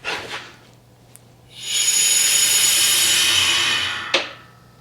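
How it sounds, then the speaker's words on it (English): A steady, loud hiss of compressed air leaking in a garage shop starts abruptly, holds for a few seconds, then cuts off with a short sharp burst. "Ooh, you hear the leak?"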